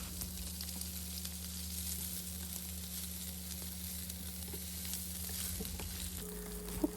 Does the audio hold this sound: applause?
no